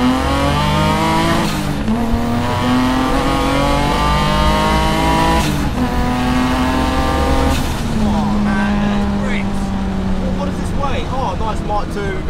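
A turbocharged BMW E36 with an M50 engine accelerating hard along a straight, the engine note climbing through gears in long rising sweeps with brief breaks between shifts, loud and continuous from inside the car, with voices over it.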